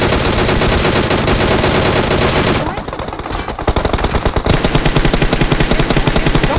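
Sustained automatic gunfire from PUBG Mobile on the Erangel map, loud rapid bursts that briefly drop off near the middle, then resume as a dense rattling volley.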